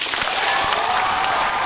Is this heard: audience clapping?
yes